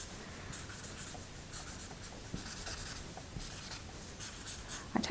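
A Promarker marker colours in purple on paper, a soft continuous scratchy stroking close to the ear, quiet and steady with no talk.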